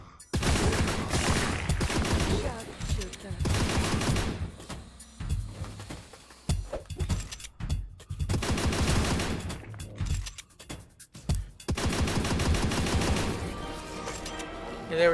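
Bursts of rapid gunfire from the VR shooter game MOAR come in several long volleys separated by short pauses, loud and close, with a voice talking faintly between them.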